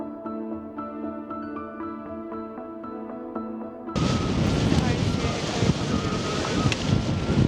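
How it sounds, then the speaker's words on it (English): Strong wind buffets the microphone on the slopes of Fuego volcano in Guatemala. After about four seconds of music, a loud, continuous gusty roar takes over. "The wind was blowing so hard, our fingers were freezing"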